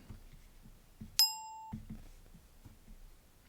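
A single electronic doorbell chime rings once, clear and ringing briefly before cutting off, over a quiet room with faint low murmurs.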